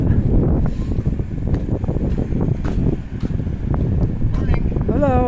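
Strong gusty wind roars across the microphone along a city street, a loud continuous rumble that swells and dips, with a faint whining tone near the end.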